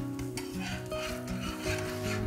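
Dahi thalipeeth sizzles in a little oil on a hot griddle, a steady close frying hiss with scraping and stirring clatter running throughout, no talk.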